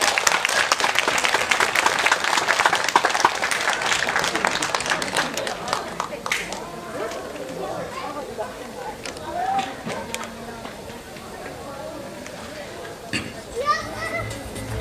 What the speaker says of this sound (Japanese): 皆さんに大きな拍手の方お願いいたします。